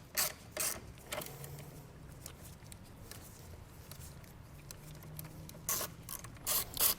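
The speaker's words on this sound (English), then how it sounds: "So this is a 10mm socket I have. Get that torqued down" A hand ratchet with a 10mm socket clicks as it torques down a power wire on a 2023 Chevrolet, close, quick runs of ratcheting clicks at the start and end with quieter handling noise between.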